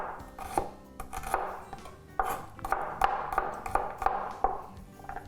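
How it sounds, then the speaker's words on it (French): Knife finely chopping garlic on a board in a home kitchen, a steady run of quick, close taps and scrapes coming in bursts with brief pauses, without talk. "Donc l'ail, je vais hacher finement."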